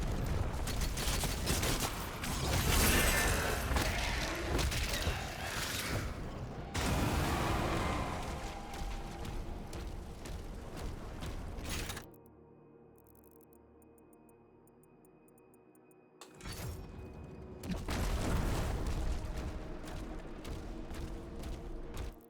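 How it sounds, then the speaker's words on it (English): Artillery cannon and mortar fire in a dark fantasy shooter: dense bursts of heavy booms and crackling impacts, cut by a near-silent pause partway through, then another loud barrage of blasts. "Okay, here's our first artillery cannon, I think. No. Okay, is the mortar things."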